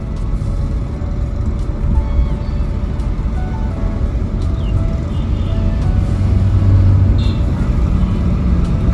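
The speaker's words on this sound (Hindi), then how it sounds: "इतनी कुछ साउंड है जो अपनी बिना डैम्पिंग की गाड़ी में आती है।" Steady low rumble of road and tyre noise inside a moving Maruti Swift without sound damping, constant and fairly loud with no talking.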